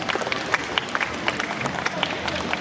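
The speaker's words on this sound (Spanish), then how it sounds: "pues un aplauso a nuestro amigo" A comedy-show crowd at the Tsunami venue in Mérida, Yucatán, bursts into brief scattered applause and cheering, busy and near, with voices mixed into the clapping.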